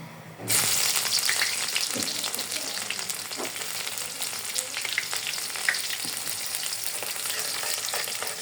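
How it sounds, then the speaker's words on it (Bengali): Chopped garlic and dried chillies crackle in hot oil. The sizzle starts abruptly and then stays loud and close, with scattered pops throughout. "রসুন কুচিটাকে আমি ব্রাউন করে ভেজে নিব"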